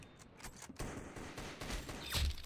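A burst of gunshots in the Roblox shooter Arsenal, quick crackling fire ending in a louder close shot, faint and game-like with no talk over it.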